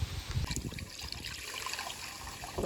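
Water is poured into clay water pots set out for pigeons beside a well, a faint, close trickle and splash under light background noise.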